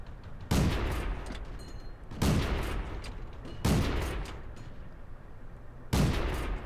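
An auto cannon fires in the World of Tanks game, four loud heavy bursts spaced a second or two apart, each followed by a lingering rumbling tail.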